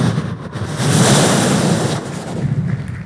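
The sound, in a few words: mimicry artist imitating the sound of the sea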